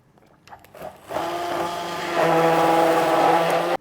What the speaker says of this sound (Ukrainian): Та все це перемішую до однорідної консистенції за допомогою блендера.